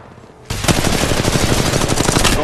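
Rapid automatic gunfire in the mobile video game Apex Legends Mobile bursts in abruptly after a quiet moment and continues loud and dense, a fast rattling stream of shots.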